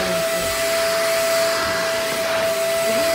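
Cordless stick vacuum cleaner with a headlight running steadily indoors while cleaning under a bed, a continuous loud whirring motor drone with a sharp high whine throughout, no talking.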